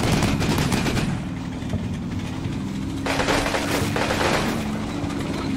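Gunfire in the WWII strategy game Combat Mission Rome to Victory, sustained rattling machine-gun bursts with a heavy low rumble beneath, loud and nearly unbroken throughout.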